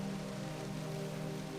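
Steady rainfall with a constant soft hiss and patter, low and even throughout, backed by a faint tonal hum and no voices.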